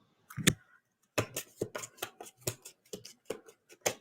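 Papers are shuffled and handled close by, making a quick series of crisp rustles and flicks in irregular bursts, with no voices.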